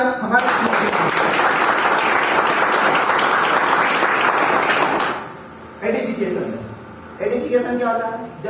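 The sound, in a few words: audience applause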